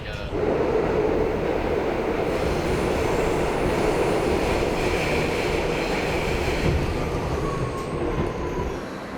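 A subway train runs with a constant loud rumbling roar and rattling wheels, filling the whole stretch evenly with faint voices beneath.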